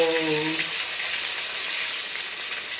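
Katla fish frying in a pan, a steady bright sizzle of hot oil running throughout, with a brief tonal hum near the start and no talking.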